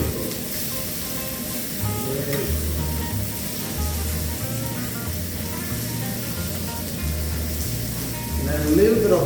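Butter sizzles in a frying pan with a steady, close hiss that holds throughout, while a low rhythmic music bed plays underneath.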